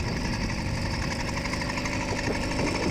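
A LA Hover Bikes Phantom 85 minibike engine runs wide open out of a corner, a loud, steady, buzzing small-engine drone that holds throughout with no pauses.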